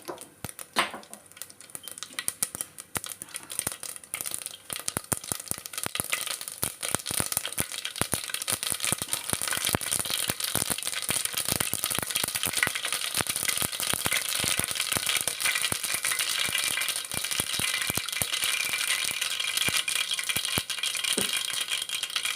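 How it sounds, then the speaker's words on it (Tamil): Mustard seeds splutter in hot oil for sambar, a dense, rapid rattle of sharp pops and crackles that builds within the first few seconds and then stays loud and close, with nobody speaking. "இப்போ நாம் எண்ணெய் காஞ்சதுக்கப்புறம் நம்ம ப கடுகு போட்டோன்னா கடுகு நல்லா பொரிஞ்சு நமக்கு கிடச்சிரும்"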